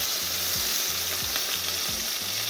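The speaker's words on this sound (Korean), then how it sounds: "베이컨 기름에 구우니까 맛있겠지." Steak fries in bacon fat in a pan with a loud, steady sizzle close up, while a low rhythmic hum pulses repeatedly underneath.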